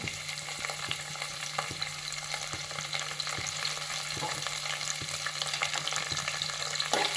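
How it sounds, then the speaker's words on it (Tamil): Crushed garlic and ginger frying in a pan for mutton head curry, a constant close sizzle broken by regular scraping strokes of a spatula, roughly one every second, with no talking. "பூண்டு தட்டி வச்சுருக்கேன் இஞ்சியுமே தட்டி வச்சுருக்கேன் முதல்ல அதை போட்டு வதக்கிக்கலாம்"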